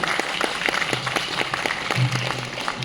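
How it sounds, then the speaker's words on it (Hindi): An audience at a company function claps for a ladies' comedy skit, fairly faint steady applause with scattered sharper claps and a low hum beneath. "जोरदार तालियां हमारे संयुक्ता के हास्य कलाकारों के लिए।"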